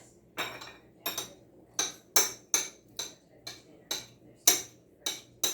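Boiled eggs being chopped for potato salad, a knife striking a cutting board in about a dozen sharp, evenly spaced chops, close and clear with no talk.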